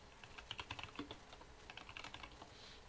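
Quick, light clicks of fingers typing on a computer keyboard, an irregular patter of keystrokes close to the microphone for a few seconds with no talking.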